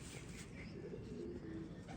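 An old loft pigeon, one of a fancier's long-kept breeding birds, coos softly in a quiet, steady murmur of low throaty notes near the middle of the stretch, with no one speaking.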